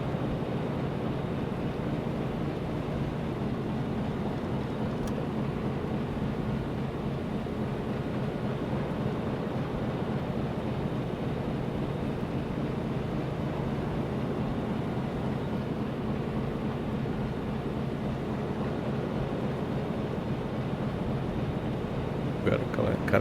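A Type VIIB U-boat's engine runs at top speed in the submarine game UBOAT, making a steady, unbroken low drone with a wash of water-like noise throughout.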